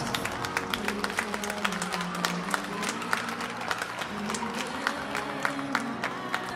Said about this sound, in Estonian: palun ma teha teil suur soe aplaus kohtunik Kristen Lang